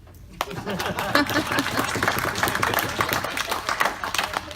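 Audience applause at a DragonCon 2018 convention panel, a dense crowd clapping loudly and steadily after a brief quiet start, with scattered voices mixed in.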